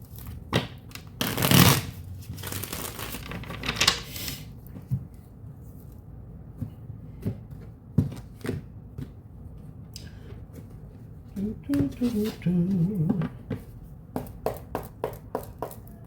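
A tarot card deck being shuffled by hand, with repeated riffling bursts and softer card taps and slides between them, close and clear, with a few spaced clicks near the end.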